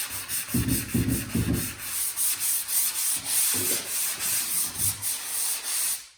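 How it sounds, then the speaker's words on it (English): Rhythmic rasping strokes of hand sanding a drywall patch, close and steady, each back-and-forth pass scratching against the hard surface in a regular pattern. "you can apply a little bit of heavy pressure while you're sanding the perimeter"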